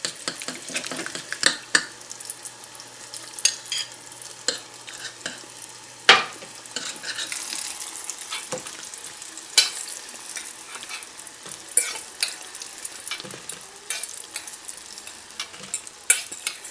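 Canned food sizzling and simmering in a pan as liquid is stirred in to make gravy, with a steady close bubbling fry punctuated by scraping spoon strokes and occasional clinks of utensil on pan.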